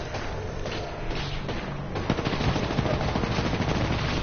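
Rapid automatic gunfire from a weapon in a first-person shooter video game rattles in bursts, dense and continuous, growing louder toward the end.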